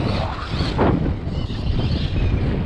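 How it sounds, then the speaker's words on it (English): Strong wind buffeting a microphone outdoors, a loud continuous low rumble and roar with gusty swells throughout, no speech. "Let me get out of this wind"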